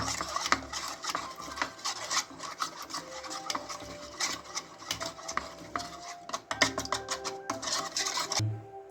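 Cumin powder and garlic paste frying in a pan for a kakrol (spiny gourd) fry, heard as busy scraping and stirring with utensil clatter and a soft sizzle underneath, fairly close and continuous.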